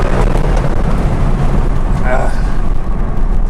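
A Mercedes C63 race car engine growls loudly as it rolls on the throttle in second gear, a dense continuous roar heard from inside, with a voice speaking over it.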